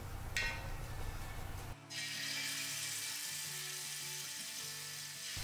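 Oil heating on a dosa griddle before frying masala-coated snakehead fish, a steady low sizzle with faint mechanical hum that brightens into a fuller hiss partway through, with no talk.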